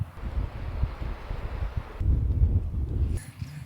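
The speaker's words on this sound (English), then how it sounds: "Let's get off this windy mountain." Steady wind blows hard against the microphone on a mountain near Esperance, Australia, a low rumbling buffet that gusts and shifts without pause.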